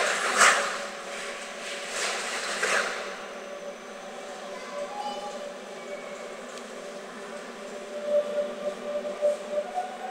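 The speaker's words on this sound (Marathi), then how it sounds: "आता रेल्वे निघाली" A train pulls out of Heidelberg station, its wheels rolling and squealing along the platform with a low rumble and screechy tones that rise toward the end, heard from the platform at moderate distance.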